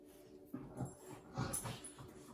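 A playful puppy whimpers and yips in short, soft bursts spaced through a quiet indoor room, with a steady faint hum underneath.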